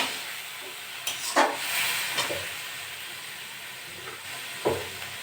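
Bottle gourd dropped into a hot pan of already-fried vegetables, hissing and sizzling steadily with a few louder stirring scrapes and bursts, close up and with no voices.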